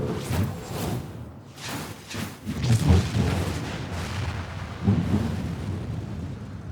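Heavy booming cannon fire from Final Fantasy XIV, rumbling blasts and whooshes rolling over several seconds with a dense, thunder-like low roar and a couple of stronger hits near the middle.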